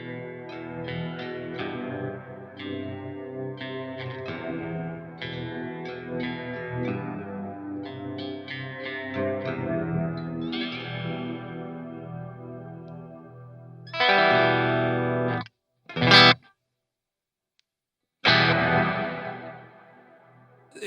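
A gold foil pickup guitar played through a Walrus Audio Ambient reverb pedal in deep mode rings out in dark, lush sustained chords with long washing tails, then stops abruptly and resumes in short bursts.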